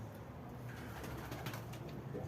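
A young pigeon gives soft, faint chirps and coos in a loft, quiet and intermittent over a low background hum.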